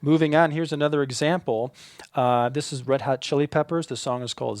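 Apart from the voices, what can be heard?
None of the usual background noises is heard.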